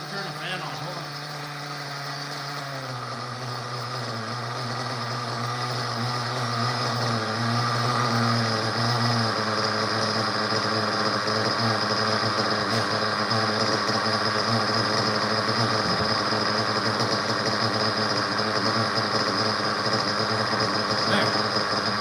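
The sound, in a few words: exhaust fan running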